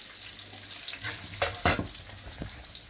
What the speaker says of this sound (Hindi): टमाटर हरी मिर्च जो थी मैंने फ्राई हो गई है